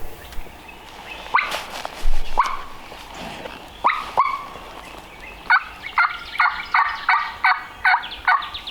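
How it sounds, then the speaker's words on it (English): A wild turkey gobbles on public land, a few distant-sounding gobbles early on, then a rhythmic run of sharp, evenly spaced calls close by over quiet outdoor background. "Gobbled again, but it sounded a little farther away."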